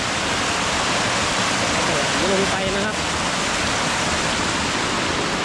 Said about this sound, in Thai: กั้นน้ำไหลให้เป็นชั้นเป็นชั้นนะครับไม่ให้ไหลลงมาครั้งเดียวนะครับผม